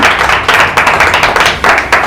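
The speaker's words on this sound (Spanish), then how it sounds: "Por favor, démosle un fuerte aplauso" An audience claps for a guest speaker at a talk on oral storytelling, a dense, steady burst of many hands close and loud, with no voices over it.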